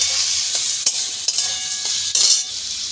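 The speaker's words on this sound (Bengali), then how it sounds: "আমি গ্যাসটা একদম কমিয়ে দিয়ে আস্তে আস্তে নেড়ে নেড়ে এটা ভেজে নেব" Vermicelli frying in ghee with cinnamon and a bay leaf over low heat, a steady bright sizzle with a few sharp scrapes and clinks of a spoon stirring the pan, close and alone.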